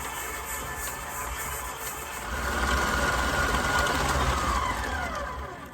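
A stand mixer creams the batter for an old-fashioned lemon layer cake, giving a steady, close motor whir with a faint rattle that swells louder about halfway through and holds there, with no talking.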